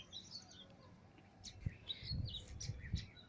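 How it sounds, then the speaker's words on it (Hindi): Faint bird chirps and tweets come from a distance, scattered short calls over a quiet outdoor background. "बैकग्राउंड में भी आप चिड़ियों का चहचहाना सुन सकते हैं"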